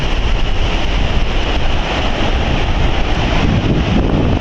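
Sea waves wash steadily at a beach resort, a continuous close roar blended with heavy wind buffeting the microphone, with no voices.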